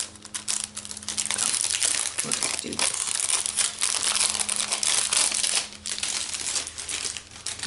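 Dense plastic crinkling and rustling fills the clip, close and fairly loud, with a brief spoken remark near the start.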